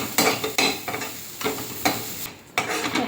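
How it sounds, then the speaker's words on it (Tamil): Coconut pieces fry in ghee in a pan, a close sizzle broken by repeated scraping stirs of a spoon every half second or so, loud and rhythmic with no talking. "தேங்காயை வந்து இந்த ஈரப்பதம்லாம் போகி நல்லா இந்த ப்ரௌன் ஆகிறதுக்கு வறுத்துக்கோங்க"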